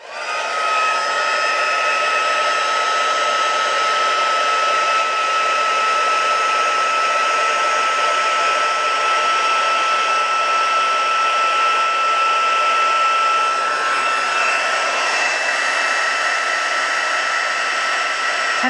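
A heat tool blows loudly and continuously for almost twenty seconds while clear embossing powder is melted on a watercolour card, a close, steady whooshing whine with no talking.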